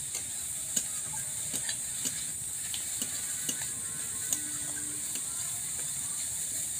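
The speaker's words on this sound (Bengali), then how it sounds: "পেঁপেটা নাড়া হয়ে গেছে, খুব বেশি নাড়বো না, অল্প নাড়বো।" Papaya chutney being stirred in a pan, a soft steady sizzle and hiss with occasional faint ticks of a spoon against the pan, quiet and continuous.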